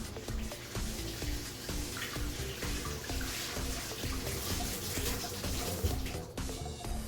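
Running tap water splashes steadily over a fresh artichoke in a kitchen sink, a continuous moderate rush with small clinks, cut off abruptly near the end.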